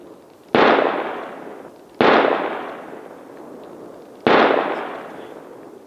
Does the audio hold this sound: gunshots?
yes